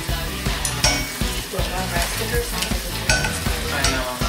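Shallots frying in a pan while a Thai dish is cooked at home, a steady close sizzle broken by repeated stirring scrapes and clinks of the utensil against the pan.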